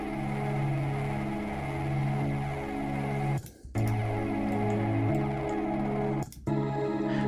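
A music track run through Melda comb filters tuned to C sharp, giving a dense, sustained, ringing harmonic drone with two brief dropouts where the sound cuts out.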